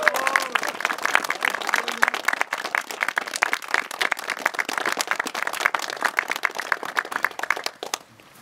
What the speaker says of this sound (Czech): A velká ovace a aplaus tady.